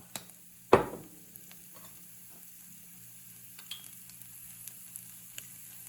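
More oil hits a hot pan while numb and spicy eel pout is being cooked. It gives one sharp, loud sizzle burst that fades quickly into quiet, sparse crackling.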